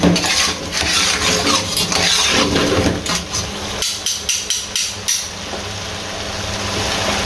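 Green chillies are stirred into mutton karahi in a metal pan: a spoon scrapes and clanks against the pan in a quick run of knocks, with a sizzling hiss underneath.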